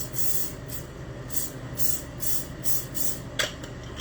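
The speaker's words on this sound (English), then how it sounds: "I'm going to spray them with, you know, non-stick spray" Short bursts of non-stick cooking spray hiss repeatedly over biscuits in a quiet kitchen, several quick sprays in an irregular rhythm, followed by a small clink.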